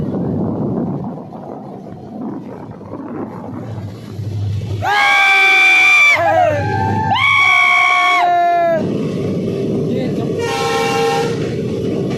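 A passenger train travelling near Dudhsagar in Goa, its horn blaring in three loud harmonic blasts over a steady rumble of wheels and carriages, with faint crowd noise and voices beneath.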